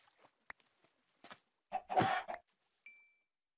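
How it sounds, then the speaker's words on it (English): Minecraft chickens cluck in scattered, short bursts amid near silence, with one louder cluster of clucks in the middle and a brief tonal chirp near the end, all fairly faint. "Hello, chickens."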